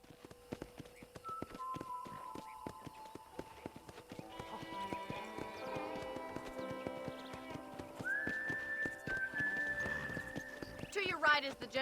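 Rhythmic hoofbeats clip-clop steadily as a black horse trots and gallops in Red Dead Redemption, with a snort and whinny near the end, set against game music and occasional talk.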